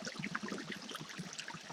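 A small stream trickles and babbles through a little forest, a soft, steady, faint watery flow with no voices over it.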